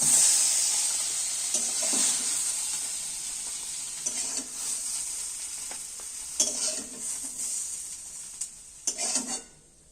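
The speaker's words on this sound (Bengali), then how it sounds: "নাড়াচাড়া করতে করতে বেগুনটা ভাজা হয়ে এসেছে" Eggplant frying in oil in a wok while being stirred: a steady bright sizzle and hiss runs throughout, with louder bursts of scraping and spattering at intervals as the pieces are turned, no talking.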